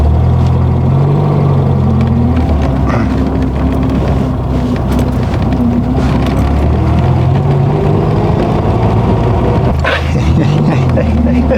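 A 1979 Reliant Super Robin three-wheeler drones steadily and loudly while driving, its low engine tone shifting slightly in pitch, with a voice talking over it.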